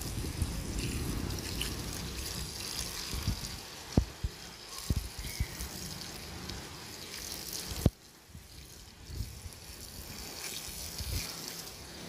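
Garden plants being watered after fertilizing: a steady, soft wash of falling water with a few sharp drips and knocks, close by and with no talking.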